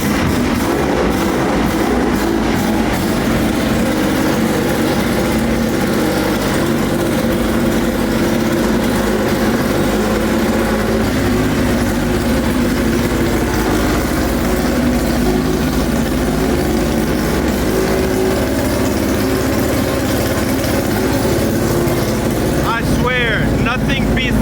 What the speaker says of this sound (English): any old motor car idle just sounds so good. It's like the beat of a drum